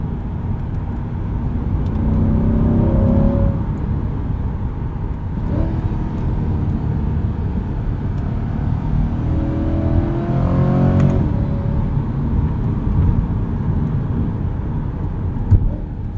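A 2020 Chevrolet Corvette C8 Stingray's mid-mounted engine revs and pulls hard on a backroad, rising through gears with a steady roaring drone and brief dips between shifts, heard from inside the cabin.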